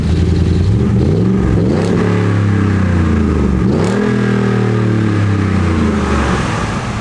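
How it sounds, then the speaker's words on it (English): A pickup truck engine with a new exhaust and no exhaust leak rumbles steadily with a deep exhaust tone, revving up twice before settling back to a throaty idle. "Sounds like a normal truck now, but beefier. No exhaust leak."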